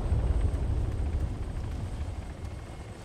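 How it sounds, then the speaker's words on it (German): A helicopter comes in to land in a shooter video game, a steady, deep rotor rumble and engine roar filling the low end, slightly louder at first and easing off, with no talk. "Okay, der Heli landet da."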